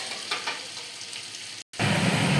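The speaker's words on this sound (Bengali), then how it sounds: "রসুনটা একটু ভাজা ভাজা হলে তারপর পেঁয়াজটা অ্যাড করবো" Garlic sizzles gently in hot oil, crackling softly and steadily; after a brief dropout the frying comes back fuller and louder.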